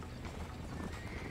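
A horse in the Red Dead Redemption video game clops its hooves in a quick rhythm and lets out a whinny, a brief, fairly faint burst of game sound.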